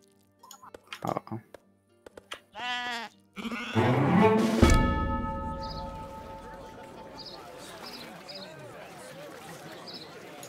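Sheep bleating in the video game Age of Empires III, a few short wavering bleats near the start, followed by a busy wash of game sounds and effects.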